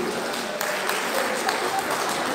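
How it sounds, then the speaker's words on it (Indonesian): An audience applauds at an outdoor Batak community celebration in Bandung for a former chairman taking on the role of advisor. The steady clapping is fairly loud throughout, with faint voices mixed in. "Tepuk tangan untuk penasihat baru."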